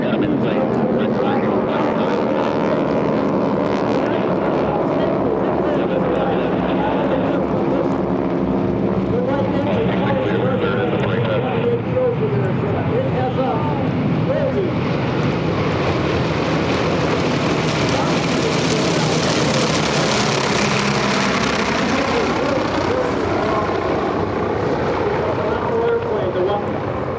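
A T-28 trainer warbird flies past at EAA AirVenture, its piston engine droning loudly and swelling to a peak as it passes, with an announcer talking over it.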